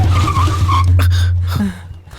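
A car brakes hard with tires skidding in a dubbed action-movie scene, a loud low rumble and screech that cuts off after about a second and a half.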